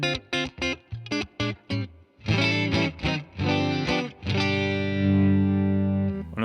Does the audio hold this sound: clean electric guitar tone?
yes